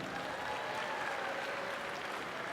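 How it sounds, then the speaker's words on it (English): A gym crowd at a state championship basketball game applauds steadily for both teams, with broad continuous clapping and some crowd noise throughout. "Let's give both teams a round of applause."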